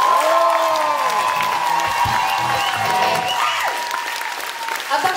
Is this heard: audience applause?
yes